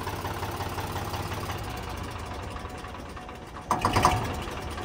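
Mahindra Arjun Novo tractor engine idling steadily, then a brief loud rattling surge near the end as it is switched off, heard close with no talk.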